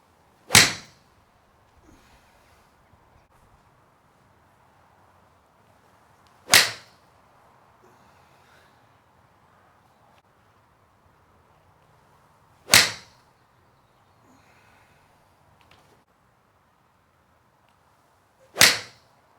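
Four sharp, loud strikes of a Titleist 718 AP3 iron hitting golf balls, each crisp explosive crack evenly spaced about six seconds apart with quiet pauses between, no talking.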